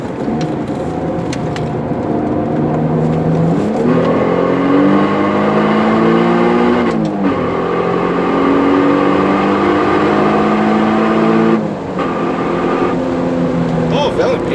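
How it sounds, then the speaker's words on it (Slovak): Loud Alfa Romeo 147 GTA engine revving and droning with a throaty exhaust, pitch rising and falling through gear changes, with speech faintly audible beneath. "na moje prekvapenie je počuť aj motor, ale aj ten výfuk"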